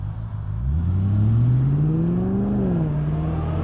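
A BMW 5-litre V8 car engine rumbles close by on the road, its deep note climbing steadily in pitch as it accelerates, then easing back down, with no talking over it.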